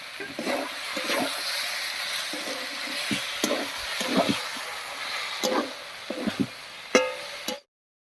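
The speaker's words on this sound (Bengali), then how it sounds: "বাটা মশলাটা দিয়ে একটু নাড়িয়ে নিয়েছি এবারে মশলা বাটা জল দিয়ে কিছুক্ষণ কষিয়ে নেবো" A spoon scrapes and stirs through frying taro stolon, potato and fish with spice paste, the pan hissing and sizzling steadily while the stirring clatters in repeated bursts, close and alone until it cuts off abruptly.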